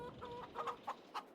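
Farm chickens in the Farming Simulator 22 video game cluck in short, repeated bursts, fairly faint and set against a quiet ambient background.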